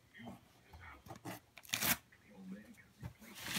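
Quiet rustling and tearing of packaging in short bursts, with one louder rip, while voices murmur softly nearby.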